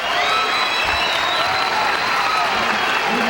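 Large arena crowd at the 1983 AAU Nationals cheering and applauding loudly and steadily, a dense roar of clapping and shouts with a faint voice beneath.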